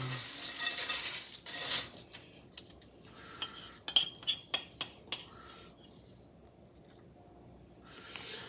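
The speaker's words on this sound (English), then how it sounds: "you definitely want to mix it very carefully so that way you don't break the cereal" Muddy Buddies cereal being gently stirred in a bowl, with scattered light scraping and clinking of a utensil against the bowl in irregular bursts, close and fairly quiet.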